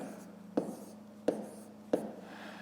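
A pen writing numbers on paper during a column multiplication exercise: three short, sharp strokes spaced about two-thirds of a second apart, close and quiet over a low steady hum.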